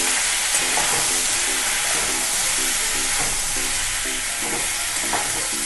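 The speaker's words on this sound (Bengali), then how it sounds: "এবারে আমি সবগুলোকে একসাথে মিশিয়ে নেব।" Vegetables and paneer with ginger paste, spices and a little sugar sizzle loudly and continuously in a frying pan while being stirred together, with faint rhythmic clinks of a spoon under the steady hiss.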